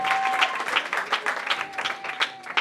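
A church congregation breaks into sustained applause, dense overlapping clapping that swells and dips in steady waves, close and full throughout, with no voices standing out.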